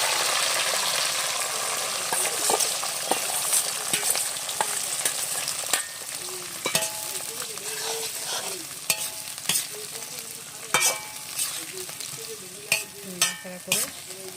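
Fried vegetables tipped into a hot pan of fried rice with peas and stirred, a steady sizzle broken by repeated scraping and clattering strokes of the spoon, close and loud.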